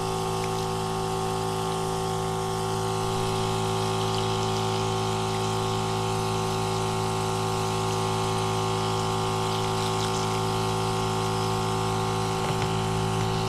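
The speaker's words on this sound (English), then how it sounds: "This pump does a gallon a minute pretty much" A small liquid pump moving about a gallon of rinse water per minute into a container gives a steady, loud motor hum with a constant tone. The watery whir runs unbroken and alone.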